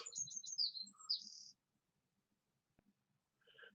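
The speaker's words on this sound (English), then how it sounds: "Shut up, bird." Small bird chirping outside in quick, high tweets and trills for about a second and a half, then near silence with a soft tap and a brief later call.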